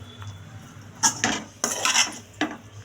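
A spoon scrapes and clinks against a pot while stirring vangi bath, a South Indian brinjal rice, in a few short, distinct strokes with quiet gaps between them.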